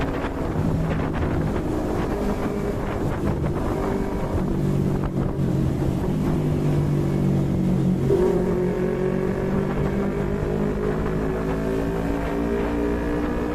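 A Yamaha MT25 motorcycle on a morning ride shifts gears without the clutch. A steady engine drone runs under heavy wind buffeting, with the engine pitch dipping and climbing again around a gear change midway.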